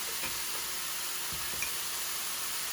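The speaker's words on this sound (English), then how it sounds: "I'm gonna go ahead and add in some garlic." Crushed garlic sizzles steadily in a hot pan alongside glazed salmon, a continuous close frying hiss with a few faint ticks and stirring touches, no voices.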